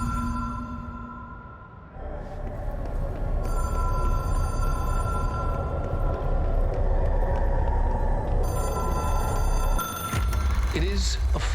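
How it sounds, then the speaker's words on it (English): Telephone ringing in the video game Control, a steady electronic ring tone running over a dense, loud ambient background with low rumble, continuing for most of the stretch. "It is a phone."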